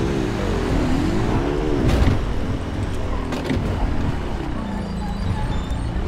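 Small truck driving in GTA V, a continuous engine drone with rising and falling revs, loud and steady throughout with no speech.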